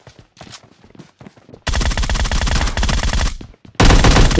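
A shooting video game blasts loud rapid automatic gunfire in two long bursts with a short gap between them, preceded by quieter scattered shots and footsteps, no talking.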